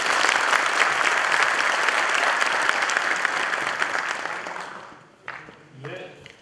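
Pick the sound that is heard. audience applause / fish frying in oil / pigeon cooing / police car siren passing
audience applause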